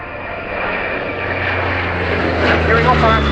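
A Breguet Atlantique 2 twin-turboprop patrol aircraft flies at the RIAT airshow, producing a steady, loud propeller drone with a broad engine roar that swells slightly toward the end.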